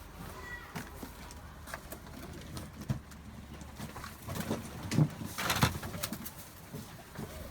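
Tumbler pigeons coo in a low, uneven murmur close by, with scattered taps, shuffles and a brief flutter of wings among restless birds.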